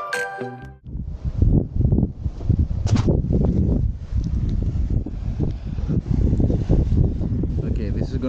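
Wind buffets the microphone outdoors during a Classic Mini road trip across Greece, a steady loud rumble that runs through the whole stretch with brief gusts rising and falling.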